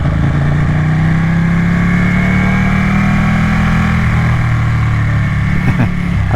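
A V-twin sports motorcycle engine pulls away jerkily on a wet, slippery road in wet mode, a loud, steady, close throbbing drone whose pitch rises slightly and then settles.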